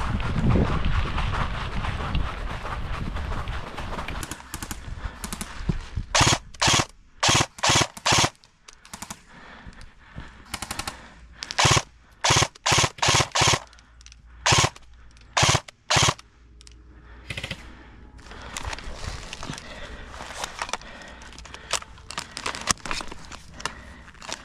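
Repeated sharp gunshots from an airsoft or paintball skirmish in open air, fired in quick bursts and spaced volleys, loud and close, with wind noise on the microphone between shots.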